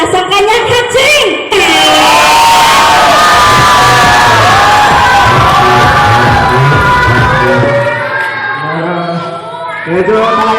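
A rap battle crowd at a FlipTop event roars with sustained cheering, whoops and shouts, loud and dense for most of the stretch, then easing slightly before swelling again near the end.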